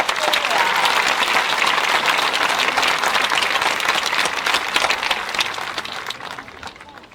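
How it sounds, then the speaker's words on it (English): Dense applause from a graduation ceremony audience fills the space, a loud, even wash of many hands clapping that holds steady and then tapers off near the end. "about another round of applause for our concert?"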